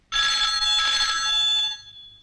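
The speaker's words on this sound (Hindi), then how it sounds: "देखना तो किसका फोन है" A home telephone rings in a single electronic burst lasting under two seconds, loud and close, then cuts off, with no talk over it.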